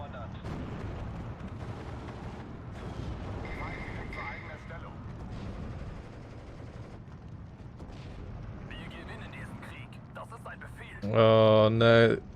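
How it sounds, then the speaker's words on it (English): An artillery shell explodes in the World War II strategy game Steel Division 2, one loud, sharp blast near the end over a steady low battlefield rumble and scattered distant fire. "Oh, that shell hit the Grenadier."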